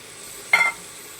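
Tomato dropped into hot oil with fried masala for a Bengali amudi fish curry gives one brief, fairly loud sizzling burst that settles back into a low background hiss.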